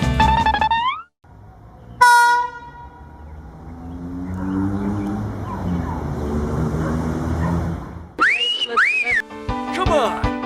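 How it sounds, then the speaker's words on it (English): A toy train gives off whistle tones near the mic: a tonal toot at the start, another around the two-second mark, then a rising-and-falling whistle burst near the end, with softer background noise in between. "Train."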